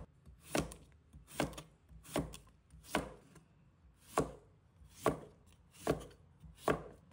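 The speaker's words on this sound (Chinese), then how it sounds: "放在案板上，将其均匀切成薄片" Eight crisp knife chops on a cutting board as a washed cucumber is cut into thin slices, evenly spaced and fairly close, with no other sounds.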